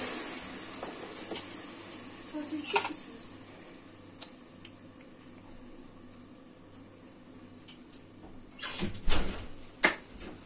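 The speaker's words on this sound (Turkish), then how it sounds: "Kapıyı kapat Elif." A household door is pushed shut in a kitchen, a few quiet knocks and then a louder thud with a rattle near the end, against a faint room hum.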